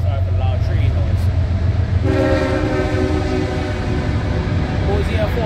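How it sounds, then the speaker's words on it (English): A loud train passes close by, its deep rumble and clatter filling the scene as a long horn blast sounds partway through and holds to the end. "Sorry for the loud train noise."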